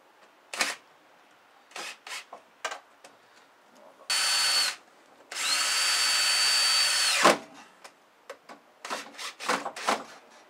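A cordless drill drives self-tapping screws into a snowblower impeller without pre-drilling, giving two sustained loud whirring bursts, the second about three seconds long, between scattered short clicks and handling knocks.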